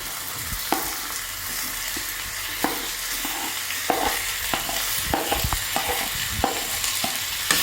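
Sliced onions and green chilies are stirred and sautéed in a hot oiled pan for egg roast, a steady sizzle broken by repeated sharp scrapes and knocks of the spoon against the pan, close and clear, with no talking.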